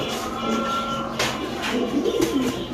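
Soft pigeon coos rise out of a busy, noisy background, with scattered clatter and a dense hum of activity around them.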